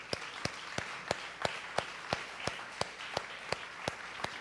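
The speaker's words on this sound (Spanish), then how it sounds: "Vamos a darles un aplauso a los servidores que tenemos aquí." A church congregation claps in a slow, even rhythm, about three claps per second, fairly faint and reverberant, with no voices over it.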